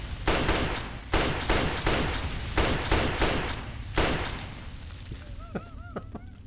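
A hunting rifle fires in a video game, a series of loud booming shots spaced roughly a second apart, each with a trailing rumble, followed by quieter honking game sounds.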